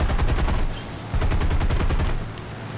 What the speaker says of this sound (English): there's somebody shooting at me now